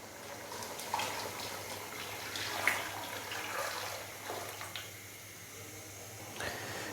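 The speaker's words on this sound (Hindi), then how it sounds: "तो अभी हम इसके अंदर पानी की बजाय यखनी डाल" Yakhni (meat stock) being poured into a pot of rice for Muslim-style masala pulao: a steady liquid pour with faint splashes and knocks, moderately close, no speech.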